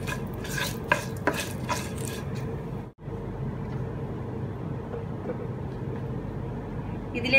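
A spoon stirs ground tomato paste into fried urad dal and chillies in a pan. A few scraping strokes come early, then a quiet, even simmering hiss follows with occasional soft voices.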